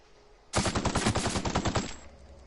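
In The Outer Worlds, an assault rifle fires one loud, close burst of rapid automatic shots lasting about a second and a half, then cuts off into quiet.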